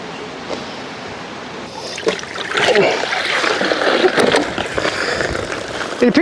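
An iGarden K36 robotic pool cleaner is tossed into a pool, landing with a sudden splash followed by sloshing, trickling water close by.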